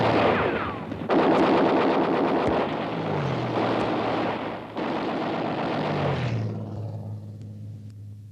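Simulated air attack staged for a 1964 film shoot about the Dunkirk evacuation at Zuydcoote: loud, dense bursts of machine-gun fire rattle continuously over a roaring engine drone that lingers and fades near the end.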